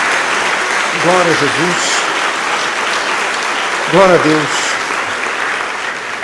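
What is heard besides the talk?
applause for the Lord in church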